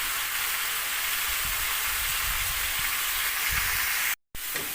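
Pieces of mango frying in oil in a pan, a steady, even sizzle and hiss that holds throughout with no talking, cut off by a short silent gap near the end.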